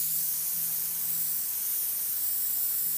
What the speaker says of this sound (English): So as you see, we spray from close to make darker